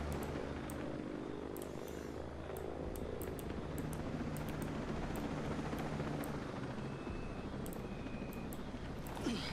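A helicopter in the Ghost Recon Breakpoint shooter game, its rotor drone a steady, continuous whir with faint clicks and no speech.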